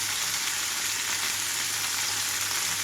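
Ivy gourd pieces frying with curry leaves and a little salt in hot oil make a loud, steady, close hiss that fills the whole stretch without pause, with no voices.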